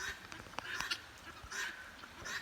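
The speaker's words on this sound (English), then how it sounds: "here's the guineas" Guinea fowl calling outdoors on a rural property, a few faint, scratchy, honking cries in short bursts, heard at a moderate distance.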